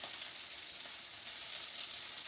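Cornmeal-breaded shrimp frying in hot oil as they are stirred, a dense, even bubbling sizzle that holds steady throughout, with no talking.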